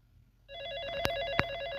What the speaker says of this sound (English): Oh, ada telepon, Pak.